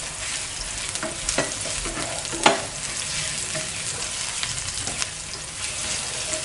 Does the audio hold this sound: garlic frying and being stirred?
yes